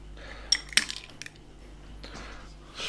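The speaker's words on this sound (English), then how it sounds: "Crack your egg" An egg cracked into a bowl of burger mixture, heard as a couple of sharp clicks and a wet tap close by, followed by soft squishy handling in a quiet kitchen.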